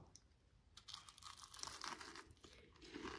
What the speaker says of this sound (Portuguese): Eu vou tirar um pedaço aqui e vocês vão ouvir a crocância dessa massa.